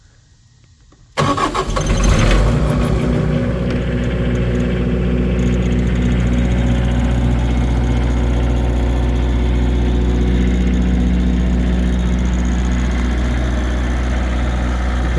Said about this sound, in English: let's see how Travis's generator does with everything enclosed.